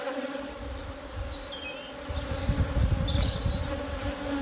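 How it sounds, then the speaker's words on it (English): A healthy honey bee colony hums as frames are worked, a dense steady buzz of many bees up close with a few individual bees droning past and the swarm growing louder partway through. "Really, really healthy colony of bees this is."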